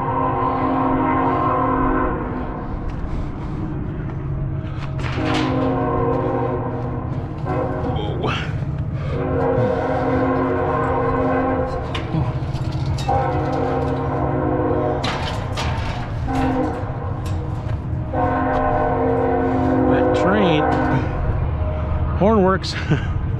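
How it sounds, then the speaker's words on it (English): A train passes, sounding a series of long, loud horn blasts over a steady rumble, with faint voices toward the end. "Oh, I hear a train."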